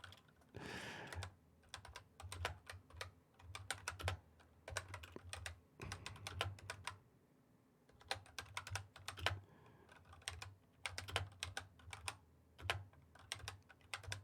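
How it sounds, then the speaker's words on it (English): Quiet typing on a computer keyboard, bursts of rapid light key clicks with brief pauses between them, close and alone, no talk. "I'm such a terrible typer"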